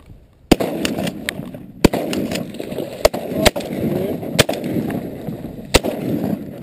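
Shotgun blasts ring out during a duck hunt: about six sharp, loud reports spaced roughly a second apart over a steady outdoor background, with people talking between shots.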